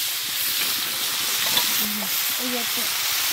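Chopped taro is tipped into a hot frying pan for a curry cooked at a family winter picnic. A steady, close sizzling hiss carries on throughout, with faint voices in the background.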